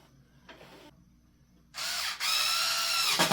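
A power drill drives screws into a refrigerator thermostat housing, with a short buzz of handling first, then loud, close whirring bursts of the motor as the screws go in.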